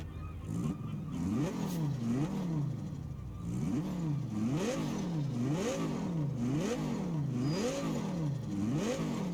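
An all-wheel-drive car in Test Drive Unlimited Solar Crown revs up and down repeatedly in a steady rhythm, its engine note rising and falling in regular waves, close and continuous.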